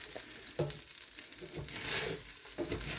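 Cold leftover white rice warms in a frying pan with a soft, quiet sizzle, punctuated by several light scraping stirs at intervals.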